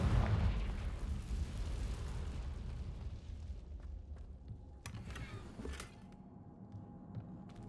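A Confringo spell blast in the game Hogwarts Legacy booms loudly at the start, then decays into a rumbling tail, with a few sharper crackles and bursts following.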